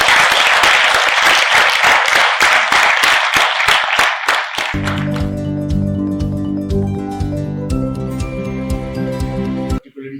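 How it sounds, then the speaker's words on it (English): Loud applause from an audience at a chartered accountants' annual general meeting, dense clapping that fades after about five seconds as sustained music takes over, then cuts off near the end. "let's begin with a big round of applause for each one of you"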